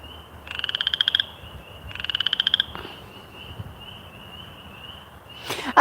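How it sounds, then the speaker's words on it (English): A frog hidden in grass gives two rapid trilling croak bursts, each under a second long, loud and close over a faint steady insect-like background hum. "I would love to see that frog, but I just know it's hiding that grass"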